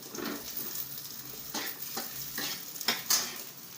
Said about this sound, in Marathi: खोबरं बी असं चांगलं असं तळून घ्यायचं